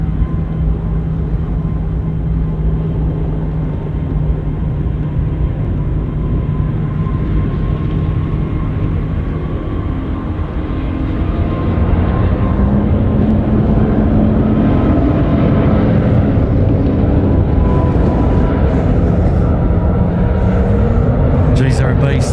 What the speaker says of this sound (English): first of two A380s. Line up, runway 34 left. Now departing, runway 34 left.